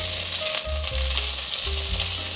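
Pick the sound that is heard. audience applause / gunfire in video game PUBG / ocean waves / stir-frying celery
stir-frying celery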